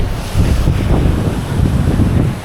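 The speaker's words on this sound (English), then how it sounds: "Look how strong the wind is." Strong wind buffets the microphone at Lake Worth Beach on a blustery day, a steady low roar with surf washing underneath, loud and continuous with no talking.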